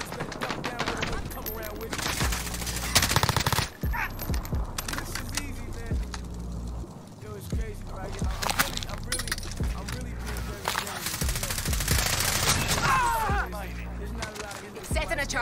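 Rapid automatic gunfire from a gun in the Warzone battle royale game, bursts firing repeatedly through most of the stretch at close range, with players talking excitedly over it.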